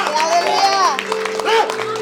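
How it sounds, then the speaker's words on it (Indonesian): Congregation clapping hands together during a church worship service, a dense and sustained wash of applause that runs throughout, mixed with voices and crowd noise. "Saya pastikan volume tepuk tangan yang sama sampai selesai"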